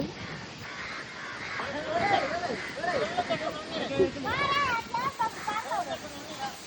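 Crows gather and caw repeatedly, loud and nearby, after a coconut is broken outdoors, while people talk throughout.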